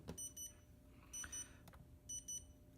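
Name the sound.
battery charger beeping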